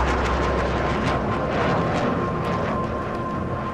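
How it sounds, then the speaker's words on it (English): An airplane passes overhead in the Dying Light zombie video game, a steady, loud broadband engine roar that fills the whole moment with no voices over it. "I hear an airplane"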